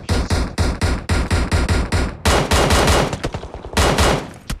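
Rapid bursts of automatic gunfire in a PUBG Mobile scrim, a run of evenly spaced loud shots followed by denser sustained fire and a final burst, close and dominant with no talk over it.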